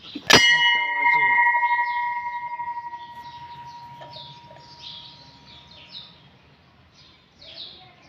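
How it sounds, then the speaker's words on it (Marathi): A temple bell is struck once near the start, a loud bright clang whose ringing tone decays slowly over several seconds, with birds chirping in the background. "घंटा वाजवायची राहिली."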